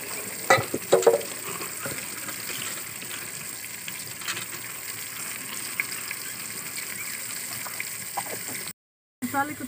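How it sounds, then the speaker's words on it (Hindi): Tomatoes and spices sizzle steadily in hot oil in a home kitchen, a loud continuous frying hiss with a few stirring clatters near the start and a brief silent gap near the end. "मसाले को तड़का लग गया"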